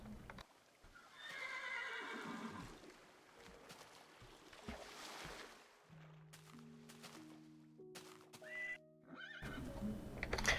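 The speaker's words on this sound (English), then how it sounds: "found horses." Horses in a modded pre-alpha Minecraft game whinny and clop their hooves, a couple of bright neighs with hoofbeats, alongside synthetic game tones.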